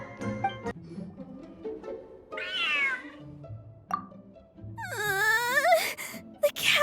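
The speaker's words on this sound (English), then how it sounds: "The cat is hissing at me" Game cat from Genshin Impact meowing in two drawn-out, wavering cries, with a low hissing rasp and scattered background game sounds between; no talking.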